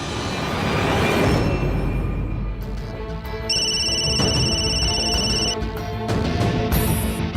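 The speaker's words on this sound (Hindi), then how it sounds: "तू फोन क्यों नहीं उठा रही है?" A phone rings on and on unanswered in a Hindi TV drama scene, an electronic ringtone chiming in repeated bursts over a steady background hum, with no one speaking.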